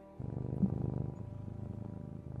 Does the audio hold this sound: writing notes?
no